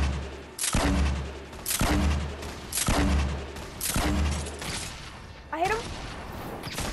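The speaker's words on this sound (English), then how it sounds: "I'm in love with the hunting rifle now" Hunting rifle gunfire in the video game Fortnite: four sharp, loud shots spaced about a second apart, each with a booming tail, while a player talks over the action.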